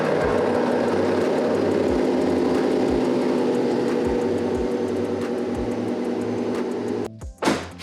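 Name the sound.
car engine starting and idling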